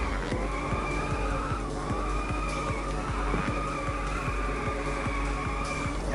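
Continuous tire skidding and screeching over a revving engine as a futuristic car drifts in the arcade racing game Inertial Drift; loud, steady and close throughout with no talk.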